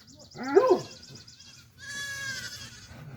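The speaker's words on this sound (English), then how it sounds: "the goats are making a lot of noise today" Goats bleat loudly twice, a wavering cry followed by a longer, strained call, with a steady high whine running underneath.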